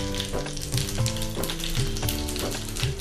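Cumin and mustard seeds sizzle and crackle in hot oil for a tempering while preparing khandvi, a loud, close continuous fry with stirring scrapes and a rhythmic metallic clatter.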